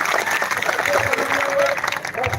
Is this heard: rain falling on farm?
no